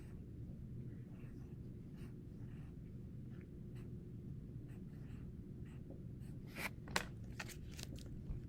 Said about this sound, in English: I'm going to write it here on a Post-it note